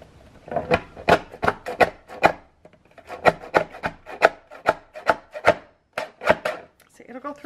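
Paper trimmed by hand to form a deckled edge for booklet inserts, a run of crisp, close tearing and cutting strokes in quick irregular bursts with short pauses, no one speaking.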